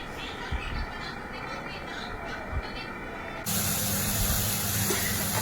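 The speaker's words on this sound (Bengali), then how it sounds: "এখানে এক এক করে নুন, হলুদ গুঁড়ো আর একটু সামান্য মিষ্টি দিয়ে শাকটা ভাজা ভাজা হয়ে গেলেই এটা নামিয়ে নেওয়া হবে" Chhoddo shaak greens frying with salt, turmeric and a pinch of sugar give off a steady sizzling hiss, which swells louder and denser partway through, with faint household noise in the background.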